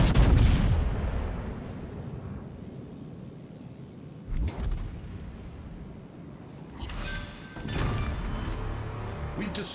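Battleship main guns firing in World of Warships, with a heavy booming salvo at the start, then further sharp blasts and rumbling shots spaced a few seconds apart against a low background.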